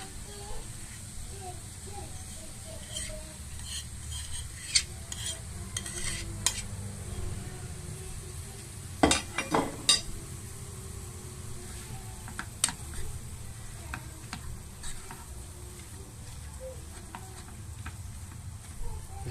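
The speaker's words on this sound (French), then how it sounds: "On va ajouter maintenant les pommes de terre." Potatoes tipped into a pan with olives, with the heat just switched off, then stirred; steady soft sizzling runs throughout, broken by scraping stirs and a few sharp clatters, with a voice talking over it.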